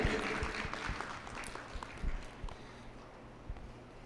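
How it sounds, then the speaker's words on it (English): Audience applause at the 66th annual Piikani Nation celebration, a scattered outdoor-sounding clapping that starts moderately and thins out with a few louder claps over four seconds. "Let's give her a nice round of applause"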